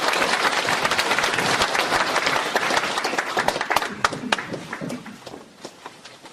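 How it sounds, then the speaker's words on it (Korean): A lecture audience breaks into loud, sustained applause as a professor is welcomed to the stage at a philosophy and humanities forum, the clapping dense at first and then thinning to scattered claps toward the end. "큰 박수 부탁드립니다."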